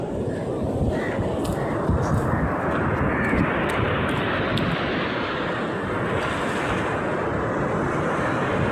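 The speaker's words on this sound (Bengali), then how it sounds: "দেখো সমুদ্রের ঢেউটা দেখো" Sea waves at the shore roar continuously and loudly, a dense wash of surf mixed with heavy wind buffeting the microphone.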